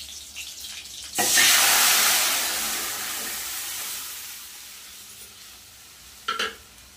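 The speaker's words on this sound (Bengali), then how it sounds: "কড়াইতে তেল দিয়ে দিয়েছি, দিয়ে দেবো পাঁচফোড়ন।" Panch phoron whole spices hit hot oil in a kadai with a sudden loud sizzle that slowly fades into a steady crackle, with a brief clatter near the end.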